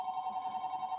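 A telephone rings during a police hostage standoff, giving a steady, fairly faint electronic tone that warbles in quick pulses for about a second, with no voices.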